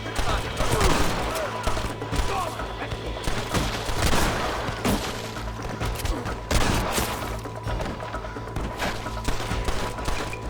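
Heavy gunfire in the Red Dead Redemption video game cracks in a dense fusillade of overlapping shots and booms, with louder volleys standing out above a steady din of battle.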